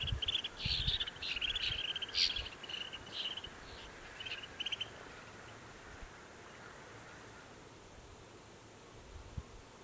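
High, twittering chirps from a small flock of snow buntings sound in bursts over a few seconds, then fade, leaving quiet outdoor hiss and wind.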